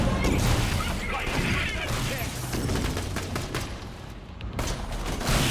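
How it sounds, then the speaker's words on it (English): Dense, continuous combat noise from the video game Borderlands: The Pre-Sequel, with overlapping gunfire bursts, impacts and explosion-like crashes filling the whole stretch loudly, and a voice talking over part of it. "I'm gonna start throwing grenade."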